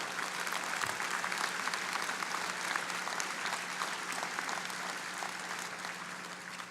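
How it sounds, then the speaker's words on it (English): Steady audience applause fills a school board meeting, dense continuous clapping that holds at an even level and fades slightly toward the end. "that is absolutely worth clapping for."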